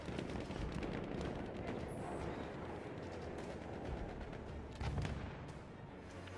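Dense, continuous battlefield gunfire from Battlefield 1 Operations, with machine gun bursts and heavy booming shots layered into a loud, unbroken wall of combat noise lasting throughout.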